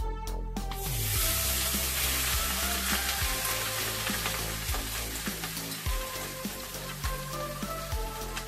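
Rice for pulao fries in a pan with a loud dense sizzle and crackle, joined by repeated scraping strokes of a spoon stirring the grains.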